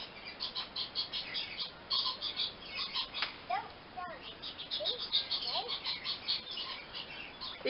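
A pet parrot chirps and whistles in short bright bursts, with a few sliding calls, while voices speak faintly nearby.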